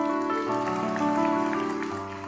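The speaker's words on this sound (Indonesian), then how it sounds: "Kasih tepuk tangan untuk Tuhan." Church congregation clapping, fairly soft and diffuse, heard beneath sustained organ or keyboard chords for a couple of seconds.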